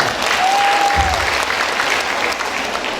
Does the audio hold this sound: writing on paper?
no